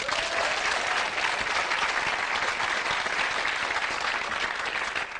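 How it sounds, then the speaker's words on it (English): A studio audience gives a quiz show contestant a round of applause: loud, continuous clapping that sustains evenly throughout before a slight dip at the very end. "You get a round of applause."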